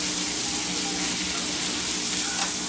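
Raw beef pot roast searing in a hot pot for a garlic ginger dish, a loud, dense, continuous sizzle and spatter filling the whole moment without pause.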